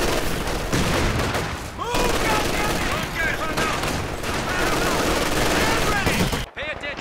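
A machine gun in Company of Heroes, a World War II strategy game, fires long sustained bursts amid other battlefield gunfire and explosions, loud and continuous, cutting off abruptly near the end.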